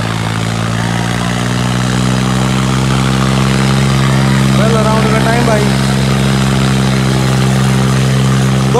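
A Sonalika 745 tractor engine runs with a loud, steady diesel drone, close and continuous throughout, while someone talks over it.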